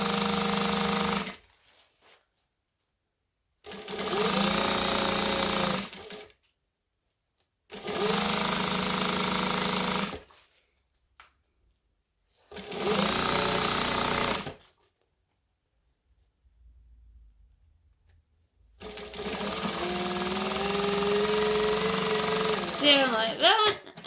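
A sewing machine stitches down the length of jacket fabric in four steady bursts of a couple of seconds each, separated by pauses, then a longer final run, loud and close.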